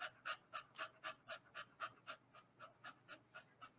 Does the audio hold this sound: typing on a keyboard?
no